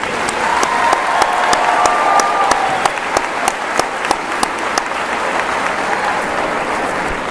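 Family members and guests at a high school graduation ceremony applaud the graduating class: loud, dense crowd clapping filling a large venue, with sharp individual claps standing out from the sustained roar.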